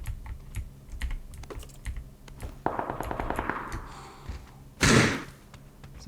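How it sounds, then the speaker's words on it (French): Gunfire in PUBG erupts as a burst of rapid automatic shots, followed by a loud close blast, with keyboard-like clicking and thumps throughout. "Ça m'a tiré dessus."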